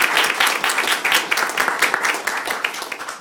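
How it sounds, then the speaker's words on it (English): Dense audience applause at a UW-Madison university fundraising gathering, with many hands clapping in a fast, even patter that holds strong for several seconds before tapering slightly, and no talking over it. "let's give her a round of applause"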